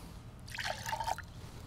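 Water trickles and splashes briefly into a bowl of beaten eggs for a Japanese okonomiyaki pancake batter, a soft, close pour lasting under a second.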